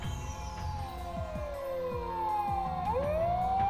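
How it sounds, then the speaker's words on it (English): A police car siren from the video game Steins;Gate wails in a long, sweeping rise-and-fall, sharply pitching down then climbing again, loud and steady over a low rumble with repeated soft knocks underneath. "a shrill siren starts to shatter the air"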